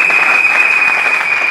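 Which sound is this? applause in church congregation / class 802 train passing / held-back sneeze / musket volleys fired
applause in church congregation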